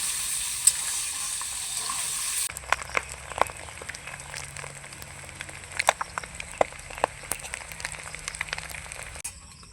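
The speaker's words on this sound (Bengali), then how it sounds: "ডিমগুলোকে উল্টে পাল্টে ভেজে নিলাম," Eggs frying in oil in a wok, a hissing sizzle that drops after the first couple of seconds into a quieter crackle with frequent spatula scrapes and taps, close by and without speech.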